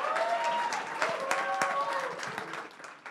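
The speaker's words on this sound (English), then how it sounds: "Round of applause for Piggyback." Crowd applause for a startup presenter at a tech village pitch night, steady clapping throughout with a voice talking over it.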